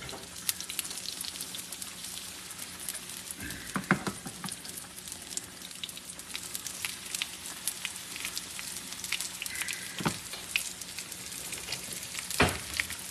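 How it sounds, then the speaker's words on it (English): Tomato gravy simmers and sizzles in a pan on a stovetop, a steady soft crackle and patter throughout with a few louder pops and spits standing out. "Watch that tomato simmer."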